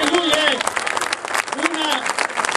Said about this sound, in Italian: c'è qui Giancarlo Giorgetti, io vorrei salutarlo con un applauso